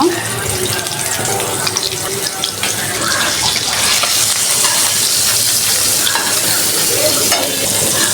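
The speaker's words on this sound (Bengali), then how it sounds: "এখন আমি ভাজার জন্য দিয়ে দিলাম। হালকা একটু ভেজে নেব।" Spice-coated fish frying in a pan gives a loud, steady broadband sizzle with scraping stir sounds, running without pause and with no talk.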